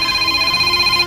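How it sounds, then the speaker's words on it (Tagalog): A cellphone rings with a steady electronic tone, its pure pitched notes sustained and moderately loud throughout, with no voices over it. "Oh, lipagting ang cellphone."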